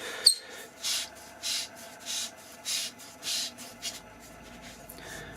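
Threaded body of a BLF Q8 flashlight being screwed down, giving a series of about six short, evenly spaced scraping rubs of metal threads, close and fairly quiet, with no talking.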